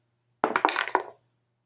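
Metal dice tumble onto a hard surface, a quick burst of bright clattering impacts and bounces lasting under a second, close and clear against silence.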